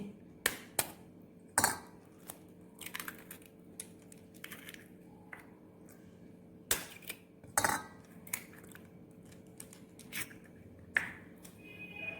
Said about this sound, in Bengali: এই ডালের মধ্যে আমি দুটো ডিম ফাটিয়ে দিচ্ছি